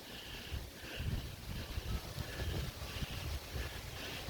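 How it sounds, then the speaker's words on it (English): Gale-force wind buffets the microphone outdoors beside a garden driveway bed, a steady loud rumbling roar with gusty low-end surges and no pauses throughout. "You'll hear the wind."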